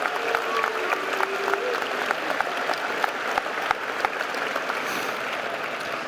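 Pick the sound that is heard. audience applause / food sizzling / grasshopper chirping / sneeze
audience applause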